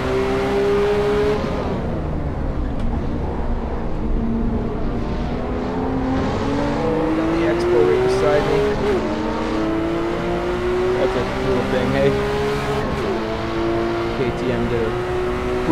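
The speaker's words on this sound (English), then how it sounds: "Look at the takeoff of this Porsche." A Porsche 911 R in Assetto Corsa VR at the Red Bull Ring GP revs hard and pulls away, engine tone climbing steadily and loud throughout under a commentator's voice.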